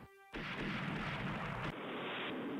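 Naval gunfire from warships in the Rule The Waves naval battle game, a sudden heavy blast that swells into a sustained roaring rumble, then thins into a lingering wash of noise.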